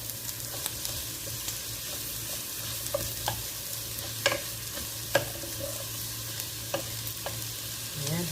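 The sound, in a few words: stirring okra and onions frying in pan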